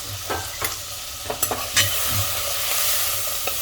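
Ground spices, salt, turmeric, coriander, chili powder and garam masala, frying in a pan for lauki aloo sabji, stirred with a spoon: a close sizzle under several scraping, tapping strokes of the spoon against the pan, no voices.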